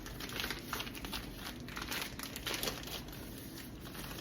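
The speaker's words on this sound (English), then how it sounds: "So we're just gonna go ahead and take the plastic off" Plastic wrapping is pulled off a raw Thanksgiving turkey, giving a continuous close crinkling and crackling with quick tearing rustles, without talk.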